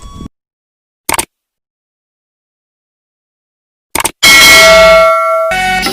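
After a few brief clicks separated by silence, a bright bell rings out loudly and lingers with a shimmering, fading tone before another short hit.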